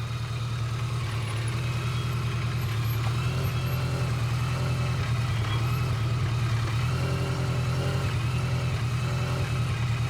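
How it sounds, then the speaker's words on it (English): A motorcycle rides slowly with steady throttle during an advanced slow-speed riding practice session, giving a continuous low, even engine hum with no talking. "Now, Selva's motorcycle's quieter, so"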